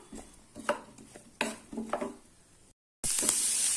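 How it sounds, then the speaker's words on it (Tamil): Roughly chopped big onions sautéing over a medium flame bring irregular scraping and clattering spoon strokes against the pan, then a brief silence and a loud, steady sizzle. "கால் கிலோ அளவுக்கு பெரிய வெங்காயம் ரஃப்பாக கட் பண்ணி வச்சுருக்கேன் அதை போட்டு வதக்கிக்கலாம்"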